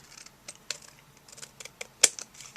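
Scissors snip through 1/8 inch white sheer ribbon at a craft table, a few quiet, crisp cuts with one sharper close snip near the end, no talking.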